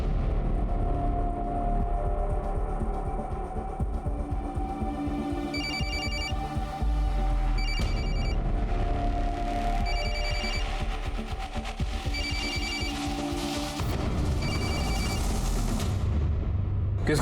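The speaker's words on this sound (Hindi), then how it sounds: "किसका फोन है?" A mobile phone rings in a house during a police search, a bright repeating electronic ringtone in regular bursts over a loud, dense bed of dramatic music and rumble.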